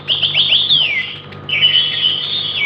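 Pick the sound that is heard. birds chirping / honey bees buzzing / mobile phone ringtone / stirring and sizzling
birds chirping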